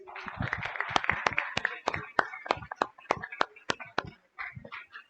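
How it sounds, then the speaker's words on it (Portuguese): Applause at a ceremony presenting an honorary citizenship title to a professor: a run of sharp, fairly spaced handclaps from a small group, mixed with voices talking over and around them, before the clapping trails off. "Vamos aplaudir mais uma vez?"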